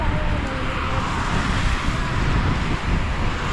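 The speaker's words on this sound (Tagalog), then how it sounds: "Lakas ng hangin." Strong wind blowing at the microphone, a loud, constant roar and buffeting rumble with no break, and a voice briefly heard under it.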